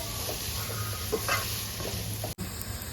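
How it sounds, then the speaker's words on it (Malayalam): Onions sautéing in a pan for a chicken thigh roast, half done, giving a steady soft sizzle with light stirring scrapes and a brief clatter near the end. "അങ്ങനെ നമ്മുടെ ഉള്ളി നന്നായിട്ട് വഴണ്ടിട്ടില്ല, ഒരു പകുതി ആയിട്ടുണ്ട്."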